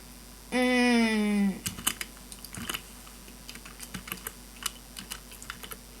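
Code is typed on a computer keyboard for a Minecraft 1.7.10 mod, heard as quick irregular key clicks close by that follow a brief drawn-out hum from a voice.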